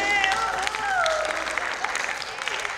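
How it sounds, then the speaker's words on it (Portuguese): A small audience at a dance talk claps when invited, brisk applause with a voice talking over it at the start. "Ai, gente, palmas!"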